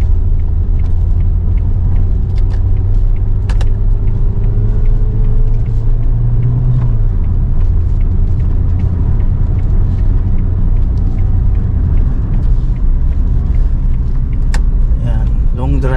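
A car on a road test drives loudly under a constant engine rumble while it overtakes on a long, curving road, and a voice talks over the driving noise.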